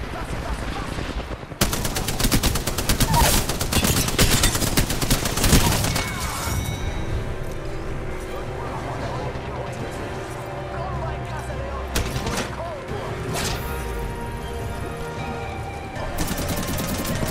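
Enemy gunfire in the video game Apex Legends, bursts of rapid automatic shots crowding the first several seconds, then scattered sharper cracks later over a background of game sounds and voices.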